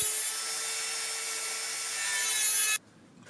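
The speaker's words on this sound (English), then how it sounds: "Once secure, cut through each rail carefully above the baseboard joint." A fine saw cuts through model railway rail directly above a baseboard joint, producing a close, steady rasping that continues without a break and then stops abruptly near the end.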